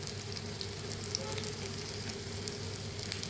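Batter snacks made with chickpea flour and a little baking powder fry in a small amount of oil, giving off a steady, dense sizzle with fine crackling bubbles. The frying runs continuously, close up, with no talking.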